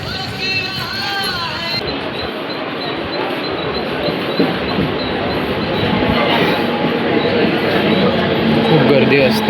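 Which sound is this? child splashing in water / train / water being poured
train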